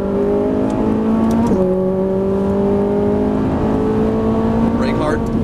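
Ferrari 458 Italia V8 pulling hard on a track after an upshift, a loud steady engine howl that drops in pitch at the shift and then climbs again, with a voice heard faintly alongside.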